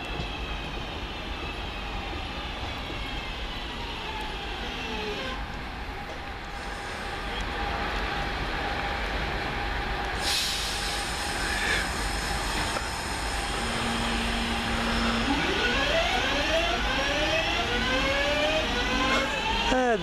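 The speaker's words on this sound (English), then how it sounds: "Now coming in, this will be the 1509 London Midland local service from Birmingham New Street to Walsall, not Wolverhampton." A London Midland class 323 electric multiple unit arrives at Perry Barr on a local service, with a steady rumble as it rolls in and rising and falling motor whine along the platform.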